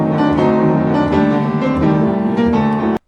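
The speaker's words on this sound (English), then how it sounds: "The rhythm as written in the score sounds like this." A piano plays a short passage in a dotted rhythm as written in a Brahms score, clear sustained chords with alternating long and short notes, loud and close, ending abruptly after about three seconds.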